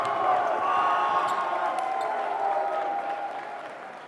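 A crowd at a junior volleyball championship final cheers and claps in a sustained roar that fills the hall, then gradually fades, with a few sharp claps standing out near the start.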